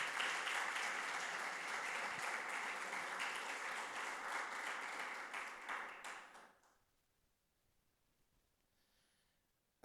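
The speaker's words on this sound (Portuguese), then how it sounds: "Vamos dar uma salva de palmas." Applause from a church congregation at a Sunday morning service fills the room, dense and steady for about six seconds before fading quickly into near silence.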